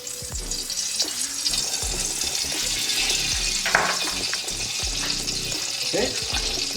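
Hot oil frying in a pot over a fire, a steady loud sizzle with scattered pops and thuds of something moving in the pan, and no one speaking.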